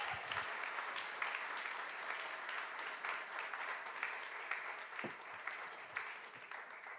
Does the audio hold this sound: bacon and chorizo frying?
no